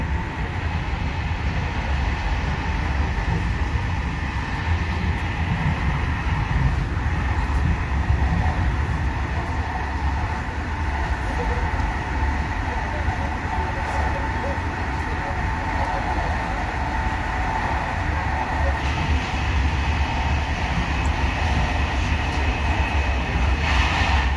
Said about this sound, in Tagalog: ito pala itsura ng train nila dito sa loob